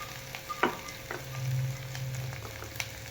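Masala fries in oil for village-style chicken with a quiet, continuous sizzle close by. A few spoon clinks and stirring scrapes break through it, and no voices are heard.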